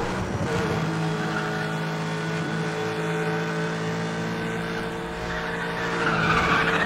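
A steady, high-revving race car engine in the video game Need for Speed The Run drones continuously with tire skidding and screeching, growing slightly louder near the end.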